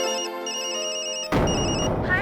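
An electronic telephone ringtone repeats its pulsed chirping tones early in the morning at home, clear and close, then is swamped by a sudden burst of louder background sound.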